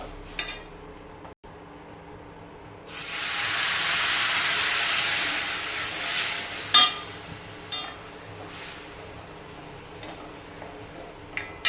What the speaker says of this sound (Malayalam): ഇനി നമ്മൾ ഇതിലേക്ക് കുറച്ച് വെള്ളം ഒഴിച്ച് കൊടുക്കാം